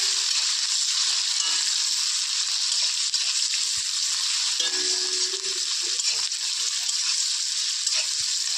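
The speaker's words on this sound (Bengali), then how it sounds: "এই তেল গরম হয়ে গেছে, পেঁয়াজ, কাঁচা লঙ্কাটা দিয়ে দিলাম" Onion and green chili frying in hot oil for chow mein, a steady loud sizzle that holds throughout with faint stirring clinks and no voices.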